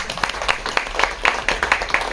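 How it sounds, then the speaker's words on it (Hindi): An audience at a poetry gathering applauds to welcome a guest, with scattered, fairly sparse claps that come steadily but not in unison. "उनका इस्तकबाल है, तालियों से इस्तकबाल हो जाए।"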